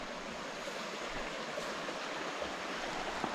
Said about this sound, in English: this over here is the river. I hope you guys can hear it flow